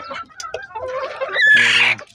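An egg-laying hen settled in a coop gives a short burst of close, loud clucking that rises into a drawn-out cackle, with no talking.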